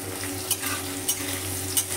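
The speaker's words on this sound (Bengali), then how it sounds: "এর মধ্যে কেটে রাখা পেঁয়াজগুলো দিয়ে আমি ভালো করে ভেজে নেব।" Sliced onions added to already-fried potato and pointed gourd, sizzling steadily in a pan while a spatula stirs them in three brief scrapes, close and moderately loud, no talk.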